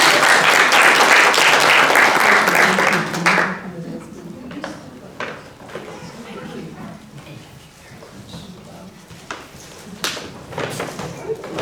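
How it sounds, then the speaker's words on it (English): An audience at a women's forum bursts into loud, dense applause lasting a few seconds, then it thins to scattered claps and taps, with people talking over it. "A big round of applause"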